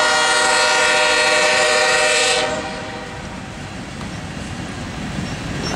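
CSX manifest freight train led by GE Evolution-series locomotives, a loud sustained horn blast with rich harmonics for about two seconds, then steady rumbling of the passing train and rail noise.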